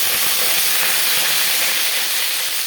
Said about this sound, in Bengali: তেলটা গরম হয়ে গেছে, এবার দিয়ে দেবো পটল।